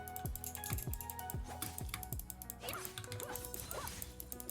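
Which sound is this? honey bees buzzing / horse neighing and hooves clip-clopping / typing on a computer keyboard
typing on a computer keyboard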